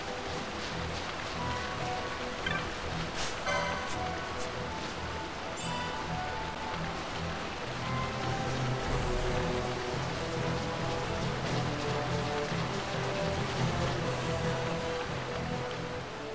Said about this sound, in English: I think the rain's based on game time.